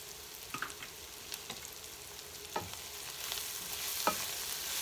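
Chicken and onions cooking in a frying pan for French onion chicken, with a faint soft sizzle and a few light scraping stirs of a utensil; no voices.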